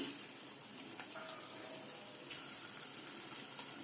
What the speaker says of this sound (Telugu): ఇప్పుడు నూనె వేడెక్కిందండి ఇట్లా ఒక్కొక్క ముక్క తీసుకొని దీంట్లో వేసేయండి